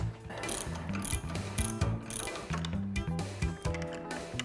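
Socket ratchet turning on a tie rod end of a Lotus car, rapid close clicking pawl strokes in repeated bursts, loud and crisp with short pauses between strokes.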